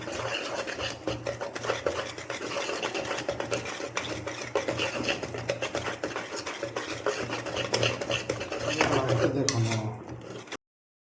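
A spoon stirs and mixes food in a cooking pot, giving a steady close scraping and rubbing texture, with talk faintly underneath before a brief louder scrape near the end.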